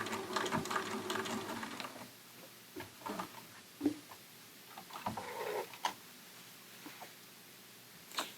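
Sewing machine stitching and reversing a few stitches to back stitch at the end of a seam, a quiet mechanical whirr followed by sparse ticks and short bursts of motor noise.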